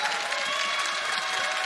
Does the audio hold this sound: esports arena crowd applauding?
yes